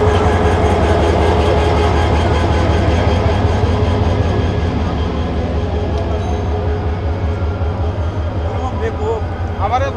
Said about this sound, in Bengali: এই যে মোহনগঞ্জ এক্সপ্রেসের লোকোমোটিভ, এই 2900 সিরিজের।